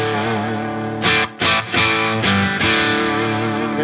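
Distorted electric guitar played loud through a Klemt Echolette BS-40 amplifier with the gain cranked high: sustained crunchy chords with a few brief breaks and re-attacks, no talking.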